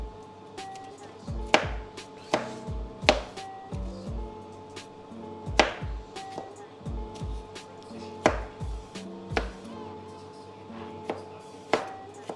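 A knife chops through a pepper on a cutting board in a home kitchen, making sharp, fairly even knocks in short bursts with brief pauses, close and clear with no talking.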